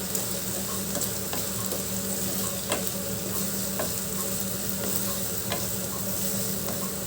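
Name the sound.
frying ingredients in a pan for semiya upma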